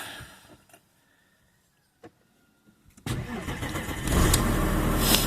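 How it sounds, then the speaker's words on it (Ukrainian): An Audi 2.5 engine with weak vacuum cranks and catches, then settles into a loud, steady idle after a few quiet clicks and a short pause. "Зараз ми заведемо двигунця."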